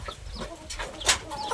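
Chickens cluck and squawk on a Thai farm, several short calls scattered over a noisy outdoor background, one louder squawk standing out near the end.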